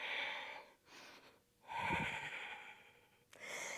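Breath pushed out during a Pilates abdominal exercise, a few soft, airy exhales with short pauses between them, close and quiet with no talk.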